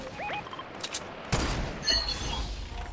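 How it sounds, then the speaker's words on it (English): Gunfire in a VR shooter video game: a few sharp distant shots crack out, followed by a louder close burst and rumbling echoes, with faint game tones early on. "I'm getting shot at"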